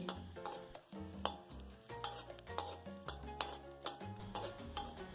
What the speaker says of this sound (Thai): เราก็จะเจียวกระเทียมให้เหลืองหอมเลย